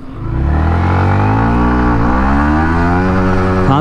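A Yamaha MT-15 motorcycle accelerates hard and close, its engine whine climbing in pitch, dropping at a gear shift and then climbing again in a loud, continuous run.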